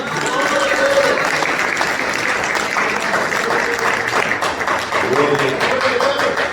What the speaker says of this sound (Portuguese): recebe o Senhor com as palmas que louvam ao Senhor Jesus